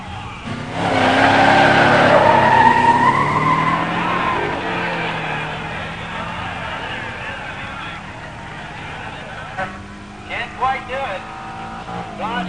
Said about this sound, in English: In the near lane, Danny Dodd, 70 Challenger TA 340 6-pack 4-speed. In the far lane, Charlie Thomas in an 87 Grand National.